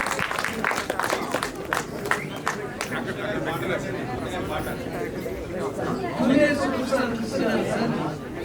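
An audience at a Telugu film award function claps in a burst of applause that thins into crowd chatter and murmuring, with voices talking over the hall noise.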